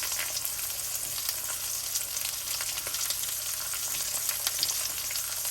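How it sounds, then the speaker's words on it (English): Meat browning in a hot pan for a slow cooker pot roast, a continuous close bright sizzle with crackling pops throughout and no talking. "All we're doing here is just browning it."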